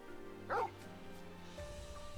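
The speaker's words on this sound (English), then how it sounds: "Bark, bark." Torgal, a dog companion in the Final Fantasy XVI video game, gives a single short bark in a wooded setting, heard over steady game music and ambience.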